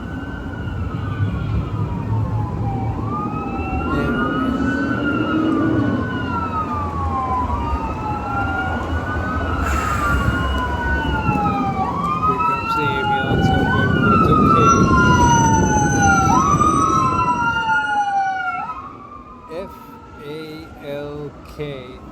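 An ambulance siren wails in a repeating up-and-down sweep as the vehicle passes nearby over road traffic rumble, swelling loud before cutting off near the end.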